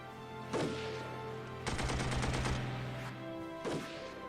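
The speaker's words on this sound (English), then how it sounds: "And our machine gun started firing." Machine gun fire in the war game Armored Brigade: a rapid burst of automatic shots in the middle, framed by two single sharp reports, over a steady low engine-like drone.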